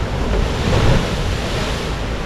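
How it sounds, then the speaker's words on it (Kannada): Strong sea waves pound and surge around a fully sunken iron boat off Bhatkal, a steady, loud roar of surf and wind with no voices. "ಅದರ ಅಲೆ ಅಲೆಗಳ ಅಬ್ಬರ ಹೊಡೆತ ಕೂಡ ಅಷ್ಟೇ ಜಾಸ್ತಿ ಆಗಿದೆ ನೋಡಿ"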